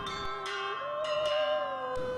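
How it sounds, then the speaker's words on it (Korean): Bronze bianzhong chime bells struck with mallets play Beethoven's choral theme in a concert hall in Hubei, China, sounding clear, resonant strikes about once a second with long, ringing sustain between them. "망치로 두드리는 종소리가 깊은 여운을 남기며 계속 이어집니다"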